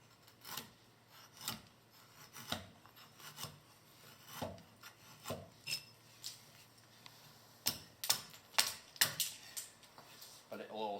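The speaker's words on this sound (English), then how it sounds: "I'll use this pivot cut a lot for sort of fine carving" A woodland axe carves wood with short pivot cuts, giving a series of quick, irregular scraping strokes that bunch up toward the end, with faint talk in the background.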